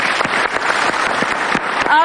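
An audience claps steadily in a TV talk-show studio, a dense, even patter of hands with voices over it.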